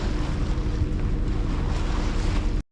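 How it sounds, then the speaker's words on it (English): A boat motors along the coast toward La Paz, its engine a steady low rumble mixed with wind and water rush, loud and close throughout before cutting off abruptly. "So we're motoring."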